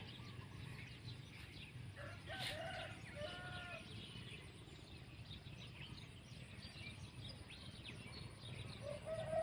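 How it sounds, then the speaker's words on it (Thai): A rooster crows faintly in the distance beside a rice field in the morning after heavy rain, with other birds calling over a steady outdoor background hum. "ไก่ขัน"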